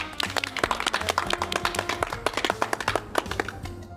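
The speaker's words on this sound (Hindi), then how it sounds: "तालियां!" A studio audience at a TV comedy show applauds in a steady flurry of close, crisp claps lasting several seconds, with faint tonal sounds beneath.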